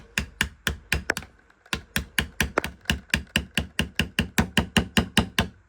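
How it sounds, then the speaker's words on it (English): A plastic hammer taps on a metal pin tool in a pistol again and again, over twenty sharp close knocks in a quick, fairly even rhythm after a short pause. "I'm using a hammer, a plastic hammer here, so I don't mar up my gun"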